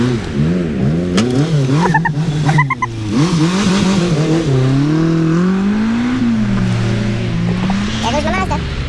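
A Mazda car with a swapped Mazdaspeed3 engine pulls away, its engine note revving up and down in repeated close, loud sweeps, with a brief tyre squeal and excited voices mixed in.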